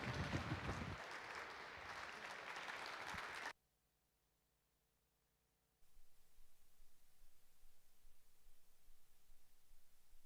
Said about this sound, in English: please give a warm, welcoming applause to Bussy Sillanpää